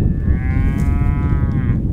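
A single cow on a drought-hit ranch gives one long, loud, sustained moo that holds steady for nearly two seconds. Low outdoor rumble and wind fill the background, and no one speaks.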